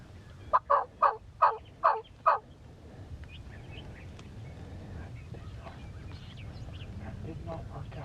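A wild turkey gobbler in Iowa gobbles in a rapid burst of five loud pulsing notes at moderate distance, followed by quieter outdoor background with faint distant bird calls.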